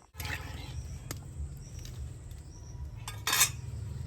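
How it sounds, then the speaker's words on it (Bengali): Metal spatula scraping and clinking against a hot wok while grated coconut is stirred, heard as intermittent clatters and scrapes over a low steady background hum. "এইভাবে খুন্তি দিয়ে একটু নেড়ে দিতে হবে"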